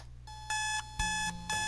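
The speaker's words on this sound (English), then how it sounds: "Why did I set my alarm on a weekend?" A video game alarm clock from a Doki Doki Literature Club mod rings in clear, loud bursts of bright tones, three repeated pulses with short gaps, heard alone without talk.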